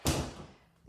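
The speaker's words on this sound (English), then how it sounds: "I need to quickly close the door." A door is shut quickly with a single sharp thud, followed by a faint tail of room sound and a small knock near the end.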